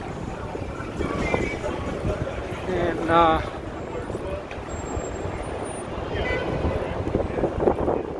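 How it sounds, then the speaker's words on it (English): Gusty wind buffets the microphone outdoors in downtown Chicago with a low rumble, while a voice speaks briefly amid city street background noise. "It's a little bit windy"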